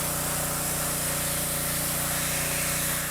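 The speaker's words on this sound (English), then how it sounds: "You're washing your arm with brake clean?" Brake cleaner hisses from an aerosol can onto someone's arm in a continuous broad spray that holds steady and close for a few seconds, no talking.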